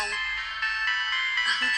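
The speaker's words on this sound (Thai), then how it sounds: "อันนี้ก็คือโทรศัพท์มือถือ ใช้สนทนากับผู้คนน่ะ" A mobile phone ringtone: a continuous electronic melody rings out for a couple of seconds, with a voice briefly audible near the end.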